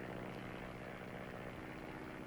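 A steady, droning propeller engine of a light aircraft in flight hums continuously at moderate distance, with no voices.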